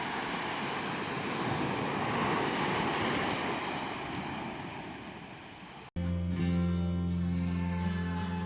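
Ocean waves wash onto a small sandy beach near Neah Bay on the Makah reservation, a steady loud surf roar with wind buffeting the microphone, fading slightly before music abruptly takes over.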